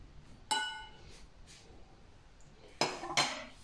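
Salad ingredients, cauliflower with leek, are tossed together in a bowl, giving a few quiet scrapes and two or three sharp clinks of utensil against dish, spaced out with near-silence between them.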